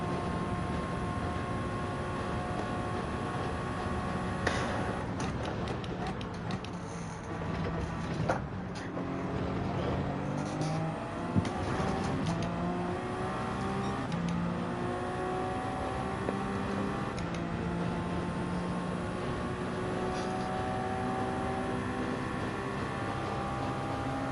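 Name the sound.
Toyota GR010 race car engine in Gran Turismo 7 video game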